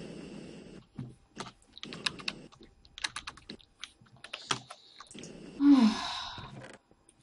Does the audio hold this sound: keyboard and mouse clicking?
yes